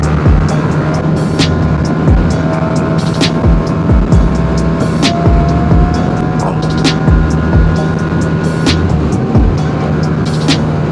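A motorcycle engine roars steadily at full throttle, with wind rushing past and occasional clicks and thumps from the road.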